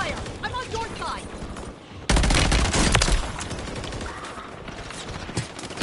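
Gunfire in Call of Duty, a dense stretch of rapid shots that grows suddenly louder midway and then holds as steady loud firing with game noise, while a voice talks faintly underneath.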